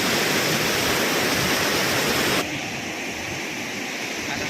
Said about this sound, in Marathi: चार धरणातून आता पाणी या ठिकाणी पडत आहे